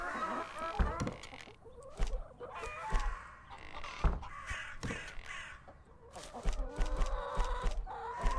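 Chickens in a video game cluck and squawk in short repeated bursts, close and fairly quiet, with a scattering of sharp clacks between calls.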